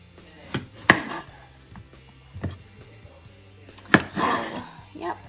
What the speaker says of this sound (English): I'm going to start cutting my zucchini